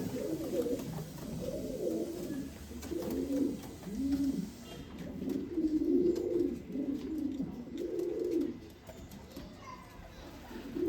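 Pigeons kept for sale in Bangalore, Karnataka coo in repeated low, throaty rolling phrases, several birds close by, with faint background voices and chatter at a distance.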